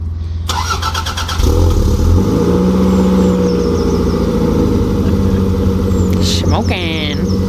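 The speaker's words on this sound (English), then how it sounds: "So we're just warming up the cars now and then gonna head to the track." Cars being warmed up at an early start before a track day at Japfest, including a Toyota MR2, with an engine starting and settling into a steady, fairly loud idle that runs throughout, with faint bird calls in the background.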